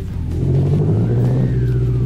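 A Volkswagen Gol in the Live For Speed racing game revs its engine hard, the loud droning note climbing steadily with no talk over it.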